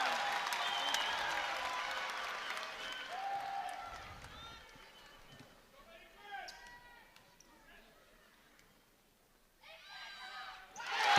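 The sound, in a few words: basketball crowd cheering after a made free throw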